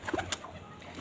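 Pigeons coo softly at close range in a pet bird setup, a few brief low calls in quick succession over a quiet background.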